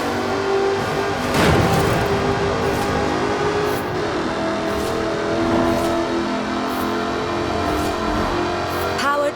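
Jaguar D-Type racing car with a 5-litre supercharged V8 in Forza Horizon 4, its engine droning steadily throughout, with a brief swell early on and a sharper rising rev near the end.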